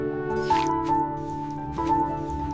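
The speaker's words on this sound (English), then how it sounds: "Now we will knead the flour nicely with water." Flour dough mixed with salt, oil and water is kneaded by hand, making a few soft wet squishes and presses beneath a sustained musical backdrop.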